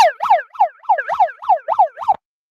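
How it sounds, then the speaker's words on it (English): A siren sound effect plays on a livestream, a rapid wailing pattern of about eight rising-and-falling sweeps over two seconds, loud and close, with no talk over it, then abrupt silence. "We need some early morning sirens to celebrate this great accomplishment."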